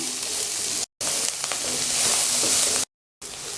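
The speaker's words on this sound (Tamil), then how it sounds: "வெங்காயமும் பூண்டும் நல்லா வதங்கியாச்சு" Onion and garlic sautéing with salt in a hot pan for a brinjal curry, a steady close hiss of frying broken by two brief cuts to silence.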